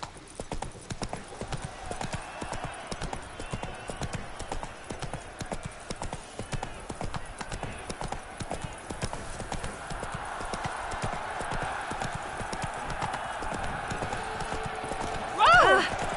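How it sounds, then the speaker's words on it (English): A horse gallops in a video game with a rapid, steady clip-clop of hooves throughout, a brief whinny near the end, and speech over the hoofbeats. "Whoa there, Roach."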